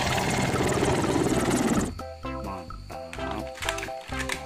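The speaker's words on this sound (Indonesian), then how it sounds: "ada helikopter militer teman-teman" A toy military helicopter's rotor chops loudly for about two seconds, then cuts off into a bright, tuneful electronic melody.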